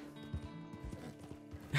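Horse hooves clopping at a slow walk in Red Dead Redemption 2 Online, soft and fairly close, several muffled thuds over a short stretch with a brief brighter sound at the end.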